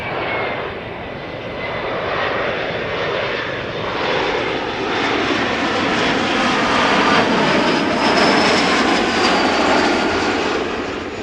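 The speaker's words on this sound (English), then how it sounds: "Embraer 175, KLM 51070, returning from Southampton." KLM Embraer 175 airliner arriving at Amsterdam Schiphol Airport, its jet engines producing a loud, steady, close roar with a slowly shifting whine throughout.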